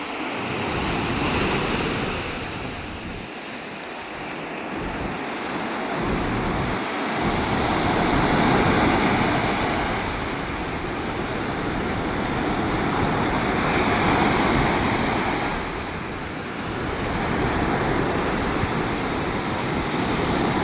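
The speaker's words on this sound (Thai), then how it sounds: "คลื่นทะเล" Ocean waves break and wash steadily onto the shore in a continuous roar, swelling and fading in slow surges, with some wind rumble.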